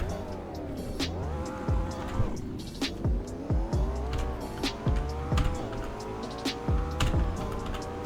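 A supercar in the driving game Greenville accelerates hard down a road, its engine climbing through repeated rising revs with sharp gear-shift drops, loud and close with faint tyre noise.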